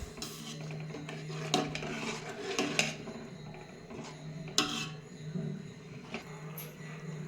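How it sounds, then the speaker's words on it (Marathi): Homestyle chicken masala is stirred in a pan, with a utensil scraping and clinking against the metal in irregular strokes, close up over a low background hum. "आता याला चांगलं मिक्स करून घेऊया."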